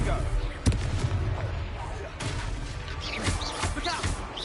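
Blasting-curse spell effects in a Harry Potter parody go off as a string of sharp bangs and crashing impacts over a dense battle din. Voices are faintly mixed in among the blasts.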